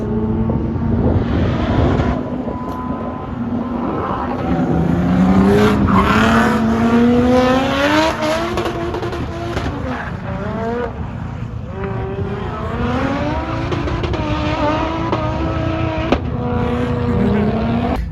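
Several drift cars roar past on Crail Raceway circuit with engines revving up and down and tires screeching, loud and continuous throughout.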